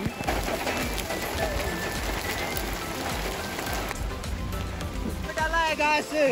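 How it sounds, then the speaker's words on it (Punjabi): Heavy rain falling during a traffic jam on a mountain road near Narkanda, a steady dense patter heard close and throughout, with pigeon-like cooing and other faint background sounds near the end. "ਲੋ ਤੁਸੀਂ ਦੇਖ ਸਕਦੇ ਹਾਂ ਕਿੰਨੀ ਜ਼ਿਆਦਾ ਬਾਰਿਸ਼ ਹੋ ਰਹੀ ਹੈ।"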